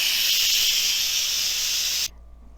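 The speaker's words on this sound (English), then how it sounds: "release any remaining pressure by moving the valve to venting" An Instant Pot vents its remaining steam pressure through the valve, giving a loud, steady, close hiss lasting about two seconds that cuts off abruptly, leaving a low hum.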